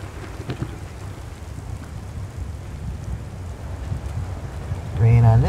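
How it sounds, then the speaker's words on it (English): Steady rainfall in the video game Chronos: Before the Ashes, a continuous soft hiss with low rumbling underneath, ending in a louder tonal game sound. "Rain on this side."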